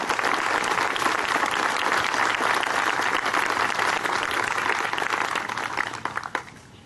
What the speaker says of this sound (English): Let's give them a big round of applause and a Semper Fi.